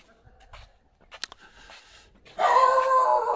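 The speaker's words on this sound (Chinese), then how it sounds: "有狗叫" A dog barks from a house with a wooden-walled garden yard in a residential complex at Rushan Silver Beach, giving a few brief, fairly faint calls before a louder burst of broadband noise.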